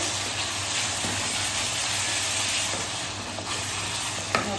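Dal makhani simmering in a pan as salt is stirred in, giving a continuous close sizzle and bubbling hiss with faint spoon scrapes.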